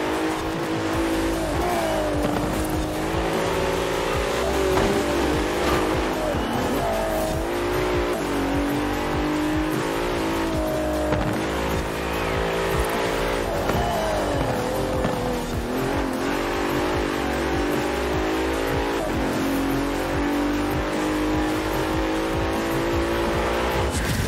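A Bentley Continental GT engine in the video game Forza Horizon 4 revs and roars continuously, its pitch climbing and falling through gear changes, loud and close.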